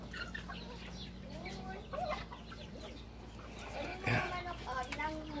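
Chickens cluck steadily in a small backyard poultry area, close and continuous, with a person talking over the clucking.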